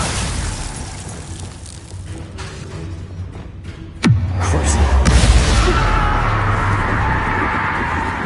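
A Bombarda blast spell goes off in a video game, one sharp explosive bang followed by a long low rumbling roar that slowly fades beneath ongoing game ambience.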